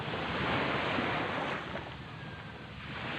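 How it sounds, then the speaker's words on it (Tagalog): Gentle waves wash steadily along a shore, a soft continuous hiss of water with light wind and no voices. "Tahimik yung dagat ngayon."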